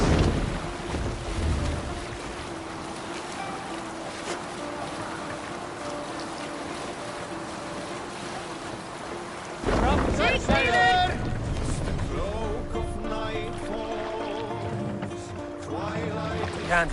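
A Viking longship under sail and oars in Assassin's Creed Valhalla, with wind gusts and water washing around the hull, a louder burst midway, and voices calling out over the moving boat.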